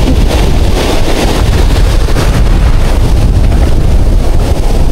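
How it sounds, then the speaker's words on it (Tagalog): Big ocean waves roll and crash around a small fishing boat, a steady loud roar of surf and wind buffeting the microphone throughout, with no voices. "ang lalaki ng alon"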